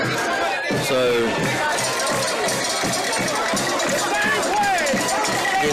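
Dense, lively crowd noise from fans in the stands at a high school football game between Treutlen and Telfair, steady and loud throughout with a cowbell-like clank and scattered voices mixed in.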